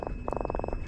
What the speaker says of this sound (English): Did you hear him croak?